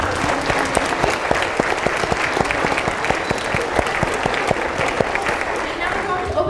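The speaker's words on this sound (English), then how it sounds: "And now we'd like to, give a round of applause." Conference audience applauding after a student question session, dense steady clapping from a large crowd, close and even throughout with no talk.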